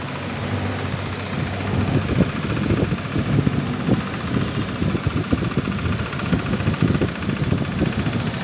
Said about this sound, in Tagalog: Haya lang muna natin siyang naka-idle para mag-ikot-ikot yung langis habang malamig pa